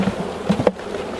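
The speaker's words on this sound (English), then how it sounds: "So what I do is I simply shake the bees like that," Honey bees buzz in a brief, agitated burst as they are shaken off a hive frame, a soft hum with a few sharper pulses close by, quickly tapering off.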